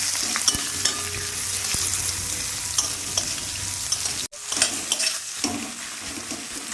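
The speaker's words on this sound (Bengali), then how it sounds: "দুটো নেড়ে দিলাম, পেঁয়াজ কোচানো, লঙ্কা কোচানো দিয়ে দিলাম" Chopped onion and green chilli frying in hot oil with clove and cinnamon for a Bengali fish curry, a steady close sizzle broken by scraping stirs of the spatula against the pan, with one brief pause.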